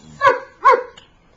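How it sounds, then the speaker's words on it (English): A dog gives two sharp, close barks about half a second apart, followed by a brief faint yip, with quiet room tone between. "Good dog."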